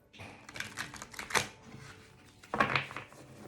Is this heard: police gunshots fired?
no